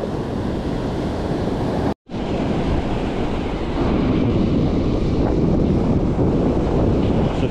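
Strong wind buffets the microphone while fishing for garrick and shad at Isipingo, a loud continuous roar mixed with surf, broken by one brief dropout.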